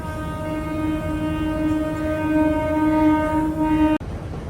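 Express train on the Chengalpattu to Kacheguda route pulling away after a signal clears, with a steady droning hum and tonal engine whine running continuously before a sharp break near the end.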